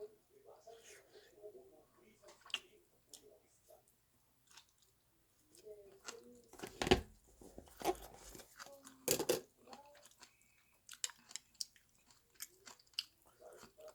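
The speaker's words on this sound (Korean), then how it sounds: "콩나물 먹어볼까요" Close, crunchy chewing of bean sprouts comes in irregular bursts of bites and munching, with soft mouth noises and quiet breathy murmurs between them.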